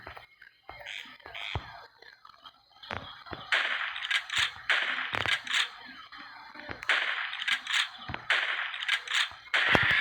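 Shotgun fire while hunting dinosaurs, including a Spinosaurus, in the video game Carnivores Dinohunter: several sharp, loud blasts in quick succession over a dense, noisy game background.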